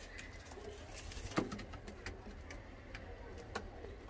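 Pigeons coo softly in the background in Naraina village, Delhi, amid steady ambient noise and a few sharp clicks and clinks.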